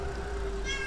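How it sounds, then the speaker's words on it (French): A small cat meows a few times, clear and close, against steady low background hum outdoors in the early morning. "Un petit chat qui m'a crié dessus."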